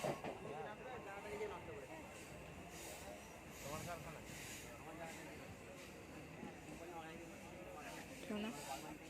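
A passenger train rolls toward Howrah with a steady rumble and repeated rhythmic clatter of the wheels, faint and continuous, while voices talk quietly on board.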